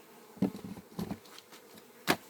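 Honeybees buzzing around a hive during preparation for winter, with a few soft close passes of buzzing and light bumps in a quiet setting.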